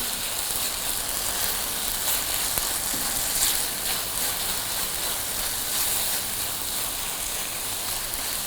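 Butter chicken mixture frying in a pan and being stirred, a dense, even hiss of sizzling fat with soft scraping underneath, steady and close, no talking.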